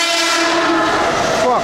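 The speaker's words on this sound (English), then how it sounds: "Train horns are loud." A train horn blares at a Japanese station in a valley, one long loud sustained blast very close, ending in a slight bend of pitch.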